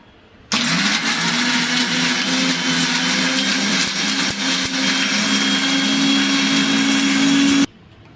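A kitchen blender grinds a sweet-and-sour chutney with sugar and a few spoons of water, a loud steady motor whir that runs almost nonstop for about seven seconds, then cuts off.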